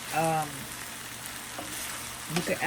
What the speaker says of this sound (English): Giving it a quick little stir.